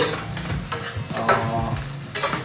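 Sliced onions sizzle loudly in a pan close up while a spoon stirs them, adding a few sharp scraping clacks and soft shuffling sounds during a short, busy stretch.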